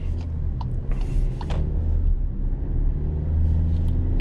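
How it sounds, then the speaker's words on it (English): Turbocharged engine of a 2020 VW Atlas Cross Sport SE pulling under acceleration, a steady low rumble with faint turbo whistle heard from inside the cabin, continuous and moderately loud. "Get that turbo sound"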